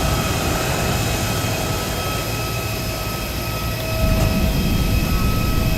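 Steady airliner engine drone from a VATSIM flight simulator around landing, a constant loud hum with a brief thump and slight rise in rumble near the end, no voices.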